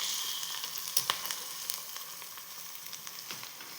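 Food fries in a pan for a simple home lunch, giving a faint, steady sizzle with a few small pops over a few seconds, no voices.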